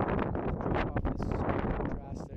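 Wind buffets the microphone outdoors during bass fishing near a pump house, a steady rumbling roar under a person's continuous talking.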